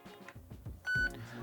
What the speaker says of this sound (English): Now back to 1 beep, which is going to be your factory setting